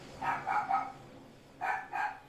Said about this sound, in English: I know it's picking up the dogs.